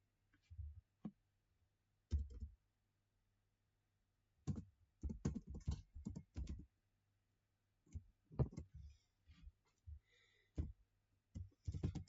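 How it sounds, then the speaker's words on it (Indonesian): Someone types code on a computer keyboard: faint, quick clusters of key clicks in short bursts separated by quiet pauses, with no talking. "Tapi kita akan mengetik."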